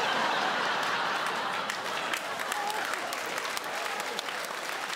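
Sustained applause from a live comedy show audience, a dense steady wash of many hands clapping that fills the room at full strength and holds throughout, with faint crowd voices beneath.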